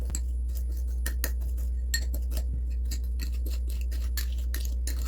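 A spoon scrapes and taps against a bowl in short, uneven strokes, with small clinks, grinding dry basil with dried garlic against a steady low hum.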